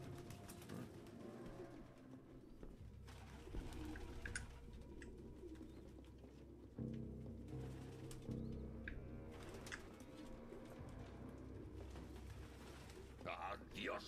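Pigeon coos and flapping wings from a video game with androids and robots, soft and intermittent under a low game soundscape, with someone talking at times.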